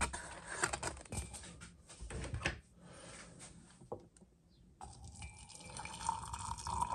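Tea poured into a coffee mug, a liquid trickling and splashing that shifts in pitch as the mug fills, heard close up and alone with a few small clinks.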